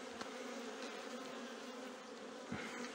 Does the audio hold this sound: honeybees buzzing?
yes